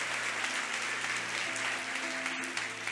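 A church congregation applauds steadily, a dense crackle of clapping at moderate distance with faint sustained tones underneath and a brief voice near the end.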